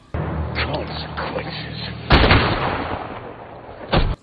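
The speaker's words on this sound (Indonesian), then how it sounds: "John Wick sama sekali belum menembak pistolnya" A loud pistol gunshot from the final duel in John Wick: Chapter 4 booms with a broad, echoing blast, followed by a second sharp report near the end, over a dense cinematic background.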